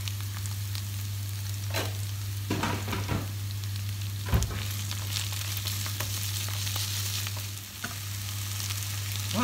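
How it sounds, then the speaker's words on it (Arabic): Chicory sizzles steadily in olive oil in a pan, a loud, close, continuous frying hiss broken by a few clatters of stirring, with no voices. "بدي اقلبن بزيت الزيتون حتى يرجعوا يسخنوا"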